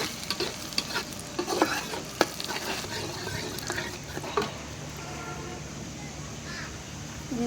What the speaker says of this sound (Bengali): মরিচটা একটু ভাজা হলে পেঁয়াজ দিই।